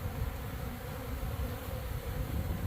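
Honeybees buzz around an untreated colony's hive as they rob out what is left inside, a dense, close swarm hum holding steady without voices.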